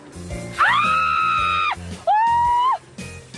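A woman screams inside a moving car during a bumpy, jerky drive, two long, loud, sustained high-pitched screams separated by a short pause.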